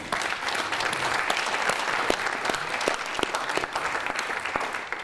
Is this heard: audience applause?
yes